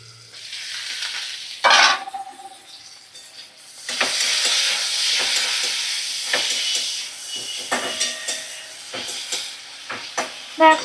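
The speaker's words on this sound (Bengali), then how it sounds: "দেখো ভালো করে ভাজা করে নিচ্ছি" Broad beans fry in a pan, a loud close sizzle swelling after a quieter start, punctuated by repeated spatula scrapes and clanks, with a voice talking briefly.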